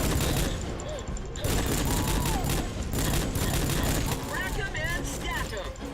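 Gunfire and a grenade blast fill a battle in the video game Rogue Trooper, with dense rapid shots and booming bursts running steadily throughout and voices heard underneath.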